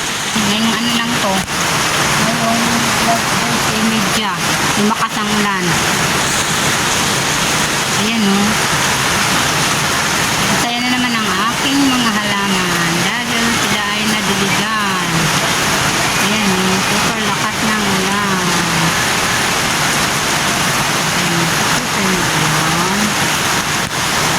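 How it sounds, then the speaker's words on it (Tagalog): Heavy rain pours down in a garden with potted aglaonema plants, a loud, constant roar of drops on surfaces, while someone talks over it throughout. "Ang lakas-lakas ng ulan."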